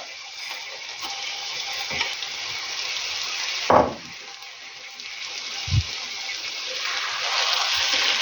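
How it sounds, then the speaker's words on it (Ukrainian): Steady sizzling of rice and mushrooms frying in a pan, with a couple of soft scraping stirs and no voices. "І отак гарнесенько це все перемішаю і теж трошечки з рисом це все підсмажу"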